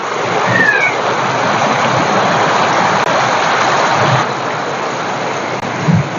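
Heavy rain pours steadily after a storm, a loud, dense, continuous hiss of drops on surfaces with a few low rumbles, close and without talk.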